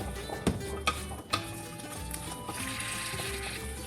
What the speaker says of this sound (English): Okay, I'll stir fry this for a couple minutes here.